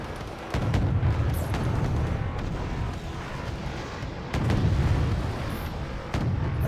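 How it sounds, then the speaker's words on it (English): Tank battle in the Wargame video game, a continuous rumbling din of distant gunfire and explosions with a few heavier booms rising out of the steady roar. "They're having a real tank battle out here."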